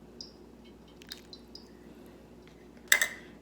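Water poured onto soil in a simple experiment drips through, heard as a few faint drips early on and then a brief louder splashing burst near the end, close and otherwise quiet.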